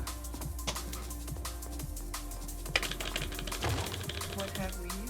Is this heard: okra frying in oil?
no